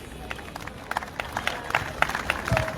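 Scattered audience clapping after a closing prayer at a Catholic conference, irregular sharp claps building slightly toward the end amid crowd murmur.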